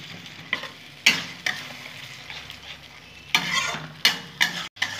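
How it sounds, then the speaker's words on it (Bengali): Spice paste with tomatoes fries in a pan, a soft sizzle underneath as a spoon scrapes and stirs in several distinct strokes, close by. "টমেটোগুলো দিয়ে দেবো, ভালো করে কষিয়ে নেব।"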